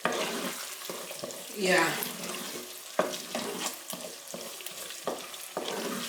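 Tomato paste is stirred and fried in a pot for Nigerian yam pottage and pepper sauce, with soft sizzling under repeated scraping and clinking strokes of a spoon. A brief murmured word is spoken once.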